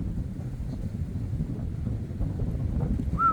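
Strong thunderstorm wind at La Buisse, Isère, blows in a steady, heavy low roar against the microphone, with a brief faint tonal squeak near the end.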